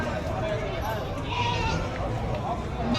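Goats bleating at a busy livestock auction market in Padre Garcia, Batangas, a few scattered bleats under constant crowd chatter and nearby talking voices.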